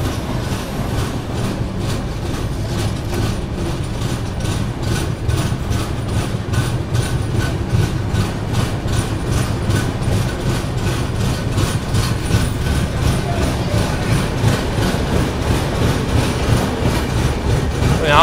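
Riding aboard the Patalkot Express, a steady loud rumble of the train on the rails carries a regular clickety-clack of wheels over joints throughout, with no talking.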